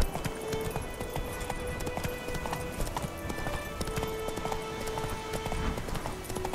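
In the video game Witcher 3, a horse gallops with rapid, rhythmic hoofbeats that sound close and steady throughout, mixed with game background sounds.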